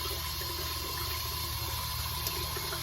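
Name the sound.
water running in bathroom sink during shave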